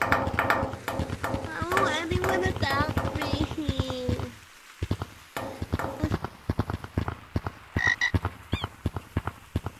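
A frog croaks in Gorilla Tag, the VR game, in a rapid, rhythmic series of close croaks that carries on over and under people talking.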